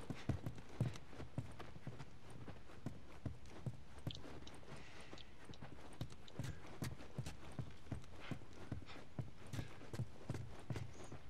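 Steady clip-clop of horse hooves walking in The Last of Us: Remastered, a continuous rhythmic clopping with a few faint background noises.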